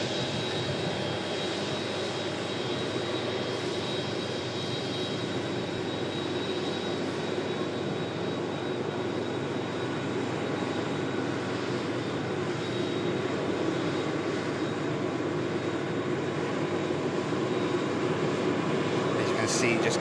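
Giant aircraft at Manchester Airport's runway produce a continuous, loud, broadband jet roar that holds steady and swells slightly toward the end, heard from close range at a runway-side visitor park.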